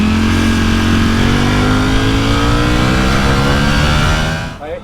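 Ducati Panigale V4 motorcycle engine holding a loud, steady high-revving drone close by, pitch creeping upward over several seconds before dropping off abruptly at the end.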